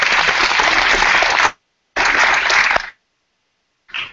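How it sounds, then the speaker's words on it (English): Audience at the e-Tourism Africa Summit in Cape Town applauding in two loud bursts separated by a short pause, then a brief final smattering of claps. "A big round of applause for Alana."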